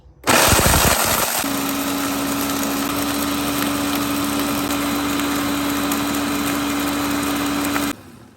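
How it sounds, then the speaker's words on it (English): A kitchen blender grinding plantain for amala fufu runs loud and close, starting with a rough chopping burst, then settling into a steady high-pitched motor whine for about seven seconds before cutting off. "I'm just going to blend them up right away."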